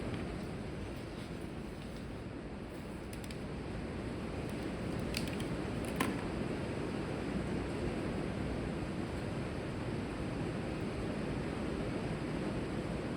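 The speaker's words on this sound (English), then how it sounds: "it's pouring outside" Heavy rain pours down outside a woodworking shop, a steady broadband wash of noise that stays even throughout, with a few faint clicks on top.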